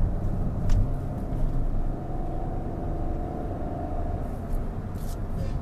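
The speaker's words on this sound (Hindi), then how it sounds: "इसमें टर्बो पेट्रोल इंजन आता है ना, और ड्यूअल एग्जॉस्ट आता है इसमें, तो इसकी आवाज बहुत अच्छी है गाड़ी की।" A Hyundai i20 N-line hatchback with a turbo petrol engine and dual exhaust drives along, giving a steady low engine rumble and road noise at a constant level with no speech.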